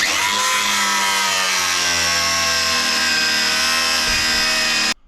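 A power tool cutting through a leaf spring bolt during a lift install on a GMC Jimmy/Blazer, loud steady whining drone close by that slowly drops in pitch, then stops abruptly.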